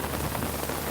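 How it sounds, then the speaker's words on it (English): Rain falls outside a house as a steady, dense hiss of drops with no pauses or other sounds across the short stretch. "the rain might, you know, slow down at some point"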